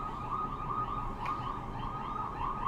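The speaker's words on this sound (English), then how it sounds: "I'm hearing some sirens." A wailing emergency siren holds steady throughout, loud and continuous, with no voices over it.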